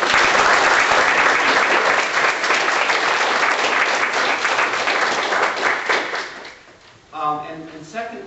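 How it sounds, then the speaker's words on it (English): Audience applause at a reunion panel, a loud sustained wash of clapping from many hands that fades out after about six seconds, followed by a voice starting to speak. "So I would like to have us applaud them."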